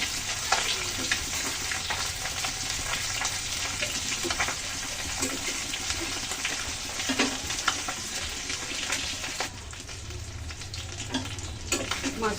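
Tengra fish fry in a pan with a steady, loud, close sizzle that runs throughout, broken by scattered clinks and scraping from stirring.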